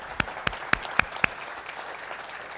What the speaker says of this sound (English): let's give Heidi a big round of applause